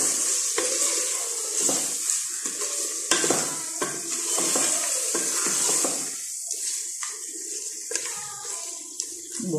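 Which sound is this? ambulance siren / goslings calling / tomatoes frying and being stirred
tomatoes frying and being stirred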